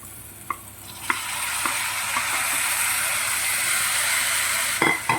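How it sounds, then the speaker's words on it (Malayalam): Breadfruit pieces with curry leaves sauté in hot oil for a masala curry, a constant close sizzle broken by a few sharp clinks of a spoon stirring the pan, with no talking. "ഇത് നമുക്ക് ഈ എണ്ണയിലൊന്ന് സോട്ട് ചെയ്തെടുക്കാം."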